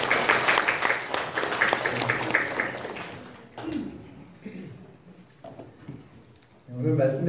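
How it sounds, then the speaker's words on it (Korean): A church congregation gives a round of applause, moderately loud and dense for a few seconds, then fading out as a voice and quieter murmurs follow. "우리 청년들이 다시 한번 박수 격려해 드립니다."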